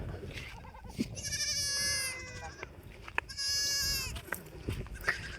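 Two drawn-out goat bleats, each lasting about a second, rise above a steady outdoor background on a river char by the Teesta, with a few faint thumps in between.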